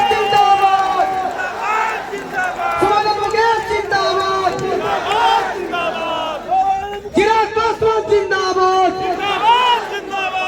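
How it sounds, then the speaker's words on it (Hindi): A large crowd at an election rally in Bihar roars with cheers, shouts and clapping, loud and sustained, surging in waves with overlapping voices. "तो जोरदार ताली बजाकर अपना आशीर्वाद दीजिए"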